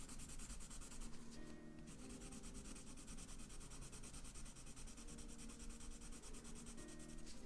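Steady scratchy rubbing of colored pencil strokes on textured paper, continuous and close, with short repeated back-and-forth passes.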